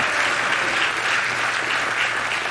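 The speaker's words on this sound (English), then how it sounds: "give him a round of applause" Guests at a formal award dinner hall give a steady, thick round of applause, even and unbroken for the whole stretch, with no voices over it.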